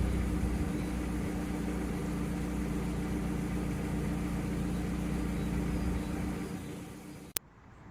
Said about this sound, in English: before the radiator fan kicks in, starts drawing some cooler air through